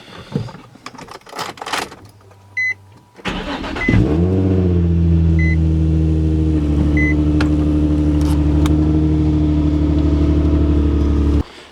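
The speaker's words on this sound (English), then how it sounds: "So I figured I'd just start my car right now and wake everyone up" Chevy Astro race van with a loud exhaust starting up: a few clicks and rustles, then the engine cranks and catches into a deep, loud, steady idle rumble that runs close by until near the end.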